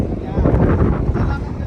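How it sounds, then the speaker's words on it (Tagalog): Strong gusts batter an outdoor microphone at a wedding photo shoot, giving a loud, rough, continuous rumbling buffet that lasts the whole moment. "lakas ng hangin."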